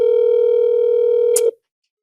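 Continuous telephone dial tone, a steady loud hum that runs alone for about a second and a half, ending in a brief click as it cuts off.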